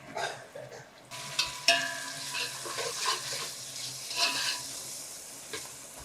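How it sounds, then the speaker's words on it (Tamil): Carrots and ginger garlic paste sauté in a hot pan for a Ramzan nombu kanji. A steady sizzle and frying crackle run throughout, broken by occasional scraping stirs of the spoon, close and clear, with no voices. "கேரட் போட்டுட்டு அப்புறம் இஞ்சி பூண்டு பேஸ்ட் போட்டு நல்லா வதக்கணும்."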